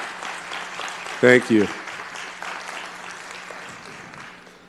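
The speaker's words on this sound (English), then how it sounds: "please stand up so we can give you a round of applause" Applause rises from attendees at a city council meeting as elected officials stand. The clapping stays moderate and continuous beneath a speaker's brief words of thanks.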